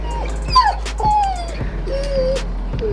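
A dog whimpers in a series of high, drawn-out whines and yips, close and fairly loud, with no talking over it.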